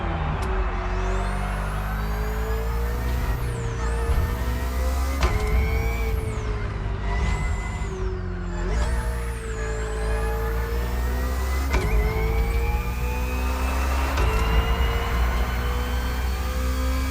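Loud, continuous engine roar of a BMW Hybrid V8 race car in The Crew Motorfest, rising and falling in pitch with repeated revving and gear shifts, close and dominant throughout with no talking.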